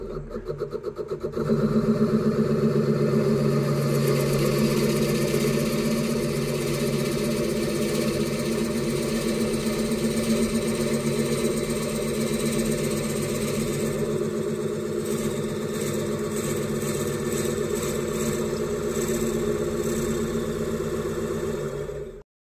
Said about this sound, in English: So now we're going to take the Forstner bit and we're going to go up to about right there